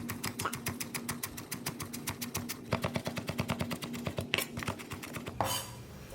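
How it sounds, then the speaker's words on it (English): Aromatics are sliced with a knife on a cutting board in a home kitchen, a quick, steady series of crisp taps that pause briefly and resume, close and moderately loud, ending with a brief scraping swish. "Now we're going to slice up the rest of the aromatics."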